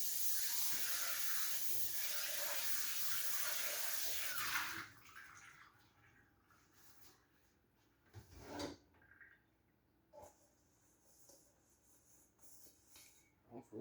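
Tap water runs steadily while a small mixing bowl is washed at home during bread baking, a loud hiss for the first few seconds, then it stops, leaving scattered soft clinks and handling sounds.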